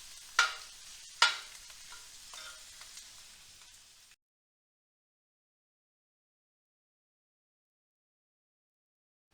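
Beef kidney fat, the caul-like suet, renders in a pan for kavurma with a soft steady sizzle and two sharp utensil clacks near the start, then cuts to silence after about four seconds.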